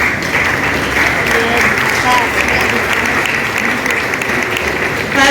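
Sustained applause from a church congregation at a Methodist church during a gift presentation, dense steady clapping filling the whole stretch at even loudness with no talk over it.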